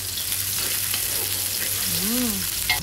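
Ginger frying in hot cooking oil for adobong tulingan sa gata, a steady close sizzle and crackle running throughout, with a brief voice-like warble near the end.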